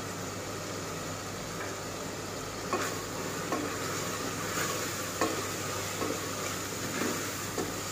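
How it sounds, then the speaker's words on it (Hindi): Spices and masala fry in a pan with a steady hiss, with occasional soft scrapes of stirring over the constant sizzle. "अच्छी तरह से भून लेंगे।"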